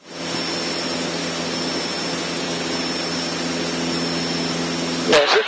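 A Cessna 152 engine drones at full throttle in a climb, a steady, loud, even roar heard from inside the cabin, ending with a brief clatter of handling noise.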